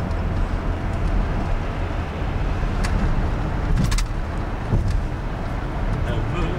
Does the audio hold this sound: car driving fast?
yes